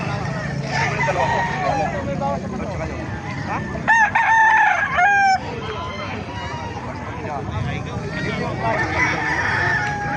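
Roosters crowing at a crowded chicken market in Bocaue, Bulacan, one loud nearby crow with others farther off, over murmured talk and background clucking.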